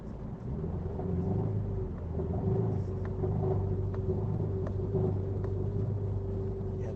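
A loud, seemingly modified car engine idles with a deep, steady rumble and a droning hum, continuous and close, with faint clicks and ticks over it.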